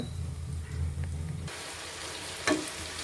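Chinese potatoes (koorka) dropped into a hot pan, a low steady rumble giving way to a bright sizzle with one sharp clatter partway through, close and moderately loud, no talking.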